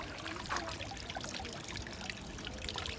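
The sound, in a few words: sparkling water being poured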